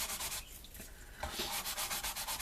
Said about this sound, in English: sanding it off, getting it all nice and smooth